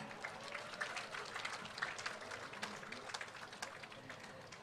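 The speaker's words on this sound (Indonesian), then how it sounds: "Kita sambut dengan tepuk tangan yang meriah." An audience at a ceremony for best traditional costume winners gives faint, scattered clapping that continues at a low, even level with no clear voices over it.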